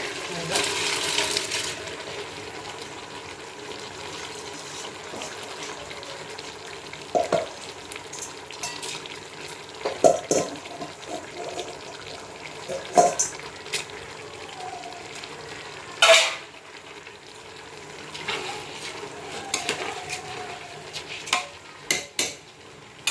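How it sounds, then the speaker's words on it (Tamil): Prawns sauté in oil and masala for prawn biryani, a steady low sizzle broken by occasional clinks and scrapes of a spoon against the pan. "இறால நல்லா காரத்தையோ எண்ணெயிலும் மசாலாவில் வதங்கணும்"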